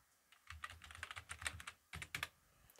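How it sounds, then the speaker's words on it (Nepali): A password is typed on a computer keyboard in quick irregular bursts of close key clicks, with a brief pause before a final flurry, quiet and without speech. "यहाँ मेरो पासवर्ड चाहिँ म इन्ट्री गर्दै छु"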